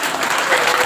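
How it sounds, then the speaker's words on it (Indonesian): A short burst of dense applause from an audience of parents and guests at an Indonesian school anniversary ceremony, continuous and loud with no gaps. "Kasih tepuk tangan dulu."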